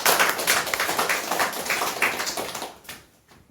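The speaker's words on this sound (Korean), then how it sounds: "박수 한번 주실래요?" An audience at a talk claps together in a dense patter of applause that fades out after a few seconds. A couple of isolated claps trail after it.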